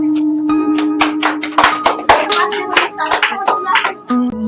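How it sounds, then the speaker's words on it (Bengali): Quiz participants give a round of hand clapping for a correct answer, crisp close claps in an uneven burst of several seconds, with a few voices underneath. "হাততালি।"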